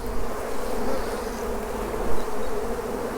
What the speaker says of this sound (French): les abeilles, ça c'est que des jeunes abeilles et elles restent bien tranquillement sur le cadre